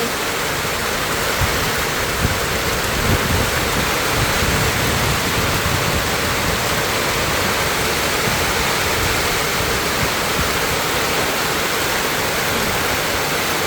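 Steady, dense rain pouring down, a continuous loud wash of hiss and patter with no breaks and no voices.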